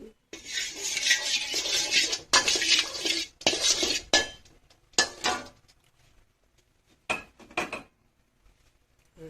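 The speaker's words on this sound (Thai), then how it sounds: "ต่อไปเราก็มาผัดข้าวใส่น้ำมันลงไป" Metal utensil scraping and clattering against a pan while rice is stir-fried in oil for Thai rice with shrimp paste, in a run of bursts that thin into sparse scrapes toward the end, with no voice.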